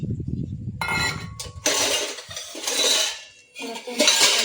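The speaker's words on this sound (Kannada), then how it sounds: "ಪಾತ್ರೆ ಜೋಡಿಸ್ತಾ ಮಾತಾಡ್ತಾ ಇರ್ತೀನಿ, ಸೌಂಡ್ ಆದರೆ ಅಡ್ಜಸ್ಟ್ ಮಾಡ್ಕೊಳ್ಳಿ" Steel vessels and pots clank and clatter as they are stacked in a home kitchen, in several close, loud bursts of metallic knocking and clinking separated by short pauses.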